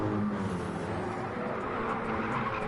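GT3 race cars in a sim racing game, an Aston Martin running right on the bumper of a Jaguar at Watkins Glen, their engines a steady droning roar held at moderate loudness throughout, with no talk.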